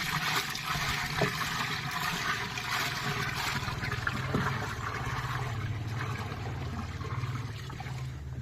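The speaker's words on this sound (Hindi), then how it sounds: "तो इसके बाद हम इसमें 15 लीटर गौमूत्र मिलाएंगे" Fifteen litres of cow urine are poured into a jeevamrit mix on a natural farm, a loud, steady, continuous gush of liquid that carries on unbroken from start to end.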